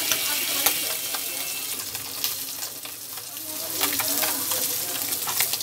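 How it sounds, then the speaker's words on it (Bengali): Tangra fish fry in hot oil, a loud, close, continuous sizzle with frequent crackling pops and spatters that rise and fall slightly in intensity. "তেলটা আমার গরম হয়ে গেছে আর মাছগুলো এখন আমি ভেজে নিতেছি।"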